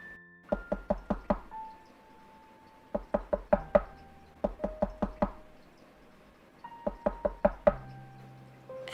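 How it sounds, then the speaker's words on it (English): Knocking comes from the other side of a bedroom wall in clear groups of four to six quick raps, separated by short pauses, moderately loud with a little room echo. "I can hear knocking, like people going."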